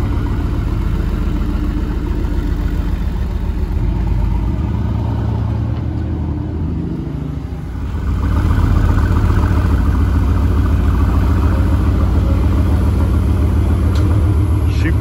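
Nissan GT-R idling in a car workshop before delivery, a steady close low rumble that eases briefly midway and then returns fuller and slightly louder.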